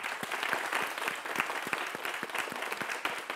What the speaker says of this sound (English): I would like to give everyone a round of applause